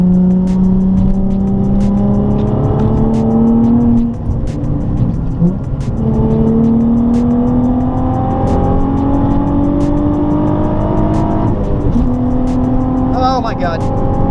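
A 2006 Nissan 350Z with a muffler delete, heard from inside, accelerates with a loud raspy exhaust that climbs through the gears in several rising pulls. People talk over the engine.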